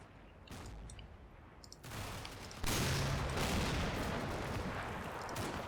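Recoilless rifle firing in a Combat Mission: Fortress Italy wargame, heard as a dense burst of distant gunfire and booms that swells louder partway through and stays heavy to the end.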